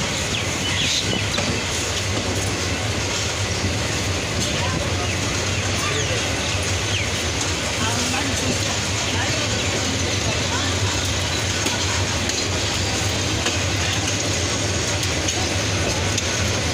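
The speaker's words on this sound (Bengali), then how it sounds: "দেওয়ানগঞ্জ রেল স্টেশন থেকে চিত্রা এক্সপ্রেস, যার ট্রেন নাম্বার 708, ট্রেনটি ছেড়ে গেল ঢাকার উদ্দেশ্যে" Chitra Express, train number 708, pulling out of Dewanganj railway station toward Dhaka, a continuous loud broadband rumble and rattle throughout with no pauses.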